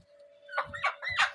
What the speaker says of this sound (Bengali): অ্যাডাল বাহামা মোরগ